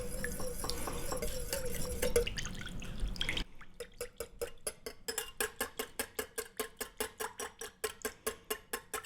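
A chapstick mixture is whisked in a small container, starting with a brief muffled stir, then settling into quick, regular clinking strokes that repeat steadily and close by.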